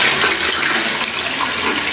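A toilet flushing in a newly plumbed bathroom at a plumbing site, a loud, steady rush of water filling the whole moment with no talk over it.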